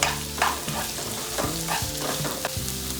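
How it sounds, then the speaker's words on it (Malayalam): Chopped onions sautéing in a hot pan, a steady close sizzle with repeated scraping stir strokes from a spoon, no voices. "സവാള നല്ലതുപോലെ വഴന്ന് വരണം"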